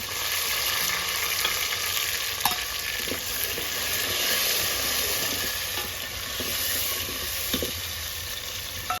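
Tomatoes frying with onions in a pan in village-style Gujarati cooking, a steady close sizzle with a few soft stirring knocks, no talk.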